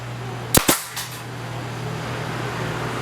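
A Makita brad nailer fires twice in quick succession, two sharp, loud, close snaps followed by a fading mechanical rattle, then only faint room hum.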